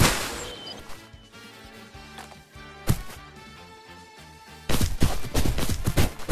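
Gunfire in the shooter game Ghosts of Tabor: several sharp shot bursts, one isolated crack and a denser flurry of shots near the end, over quieter background game noise; no talk.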